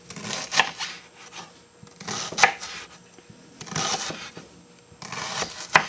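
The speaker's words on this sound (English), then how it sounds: "you want to just do your onion in thin slices like this" An onion is sliced thin with a knife on a cutting board for chicken and rice enchiladas, giving irregular bursts of crisp cutting and scraping strokes close by, separated by short quieter pauses, with no talking.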